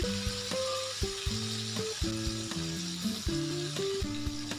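Oil crackles and sizzles steadily as flour-battered catfish fries in a pan, with occasional scraping and turning sounds over a faint tonal background.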